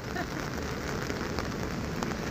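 Rain falling outdoors in Hong Kong near Admiralty and Hong Kong Park, a dense, steady hiss of drops hitting surfaces, close and loud throughout.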